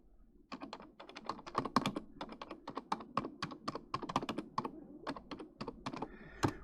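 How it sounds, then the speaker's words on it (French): Rapid, close-up clicking of keys on a computer keyboard, a continuous uneven stream of taps with no voices. "Oui, on entend sur mon clavier taper."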